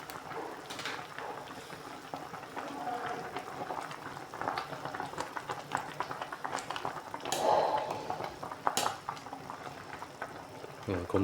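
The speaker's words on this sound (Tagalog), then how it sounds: "Kunting kulo lang yan." Fish soup with a souring agent bubbles steadily in a pot at a full boil, a continuous close simmering hiss and burble broken by a couple of sharp metallic clinks of a lid or utensil near the end.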